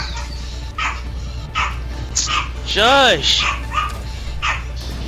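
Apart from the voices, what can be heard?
dogs barking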